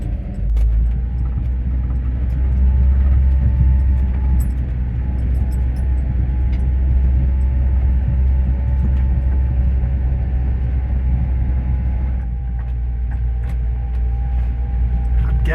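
Truck climbing a mountain road: a continuous heavy low engine drone with road rumble and faint rattles inside the cab, steady and loud throughout with no one speaking.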